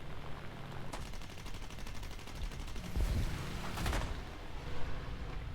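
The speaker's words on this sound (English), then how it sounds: "And absolutely hound him with 20mm cannon shells." Rapid bursts of 20mm cannon fire from an F4U-4B Corsair fighter in the combat flight game War Thunder, a steady fast rattle lasting several seconds with heavier booms near the end, over constant engine drone.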